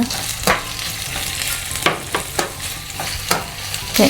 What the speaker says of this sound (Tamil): லைட்டாக கொஞ்சம் உப்பு போட்டுட்டு வெங்காயம் வதங்குறதுக்கு இப்போ இதோடு சேர்த்து கொஞ்சம் பச்சை மிளகாயும் போட்டுட்டு